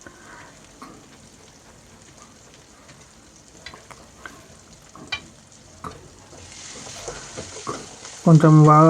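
Tomato fries down to a paste in oil for an egg and potato curry, a quiet sizzle broken by spoon taps and scrapes as it is stirred, the frying growing louder toward the end; a voice speaks briefly.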